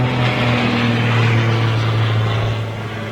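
Cape Air Cessna light propeller plane on approach at Boston Logan, a steady droning engine hum with a pronounced low tonal buzz, fairly close, easing off slightly at the end.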